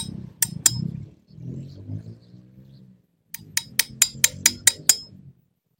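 Pruning shears cutting a branch on an Anting Putri bonsai with white trunk and long leaves: a few sharp snips, a pause with soft handling, then a quick series of about six crisp clicks close by, with murmured talk between.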